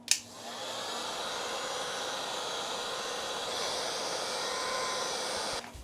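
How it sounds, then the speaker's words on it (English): A heat gun warms a sticker on a dryer door, blowing a steady, loud airy roar that holds for several seconds before cutting off, with no voices. "we're gonna heat up this sticker in hopes that we can actually save it and reuse it on the other side"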